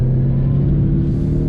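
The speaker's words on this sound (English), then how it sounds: "getting out on the highway on throttle." A 2020 Mazda 6 Signature accelerates on the highway under throttle, heard from inside the cabin as a loud, steady low engine rumble and drone.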